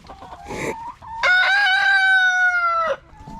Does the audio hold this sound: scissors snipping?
no